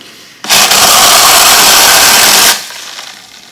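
A small portable USB blender whirs loudly for about two seconds, starting abruptly and cutting off just as suddenly, leaving a quiet room behind.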